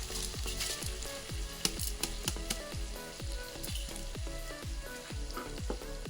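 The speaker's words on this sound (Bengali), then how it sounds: "দিয়ে দিচ্ছি ক্যাপসিকাম, এর মধ্যে এখন আমি চাল অ্যাড করছি।" Rice and capsicum frying in a pan with diced onion for Mexican rice, a steady close sizzle with regular rhythmic knocks and scrapes running through it, and no speech.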